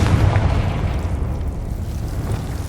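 A Confringo blasting spell detonates in Hogwarts Legacy, a loud, deep boom that decays into a rumbling tail over a couple of seconds, with no talk.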